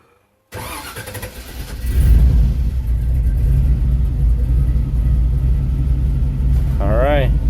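A carbureted 5.3 LS V8 swapped into a Dodge cranks briefly, catches and settles into a loud, steady idling rumble close by, with a faint high whine near the end.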